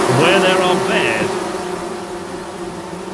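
Bees buzz around a beehive in the video game Among Trees, a steady close drone that fills the whole stretch, with a short burst of voice near the start.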